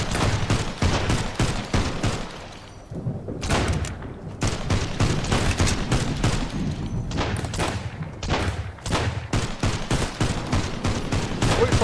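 Gun turret in the Sunkenland survival game firing a sustained barrage of loud, rapid shots, with brief pauses between bursts and dense repeated reports running nearly the whole time.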